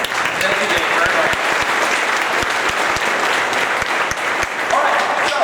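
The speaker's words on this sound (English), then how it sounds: "So Dave Stead and the crew at MSHSL, give them another round of applause" Steady, loud applause from a large audience at a state high school robotics tournament, dense clapping filling the hall for several seconds without a break.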